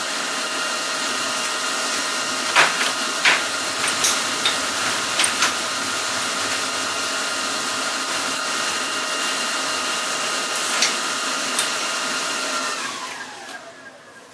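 Tack welding on a steel falling plate target for a .22 rimfire gives a steady close crackling hiss, broken by several sharp pops, that stops abruptly near the end.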